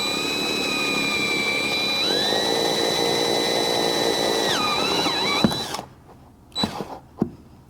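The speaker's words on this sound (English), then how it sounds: "When you're drilling the hole, you'll feel it go through the first layer" A power drill whines steadily through the double-layer roof metal of a 2022 or later Ford F-150 or Raptor, its pitch shifting as it bites through, then cuts out, followed by a few short clunks.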